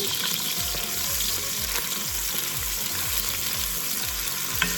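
Steady sizzling of caramelizing in a pan set over medium heat for a beef peanut curry with ham hock, with repeated stirring scrapes at a regular pace, close and continuous throughout.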